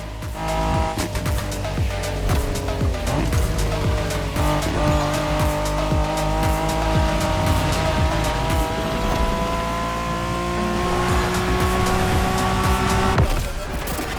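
Race cars in The Crew Motorfest video game: engines roar continuously with shifting revs and tire squeal, loud and close throughout, ending with a sharp burst near the end.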